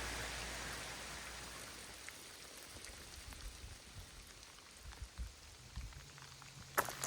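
Steady rain falls in the Pennsylvania woods, a soft continuous hiss with scattered nearby drips and patters and no talking.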